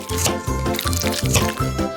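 Wet squishing, juicy sounds of a knife cutting through watermelon, repeating several times over background music.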